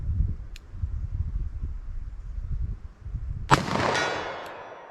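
A double-action handgun shot with decades-old Winchester Silvertip ammunition fired at a ballistic target: one sharp, loud crack with a ringing tail, after a stretch of low outdoor rumble.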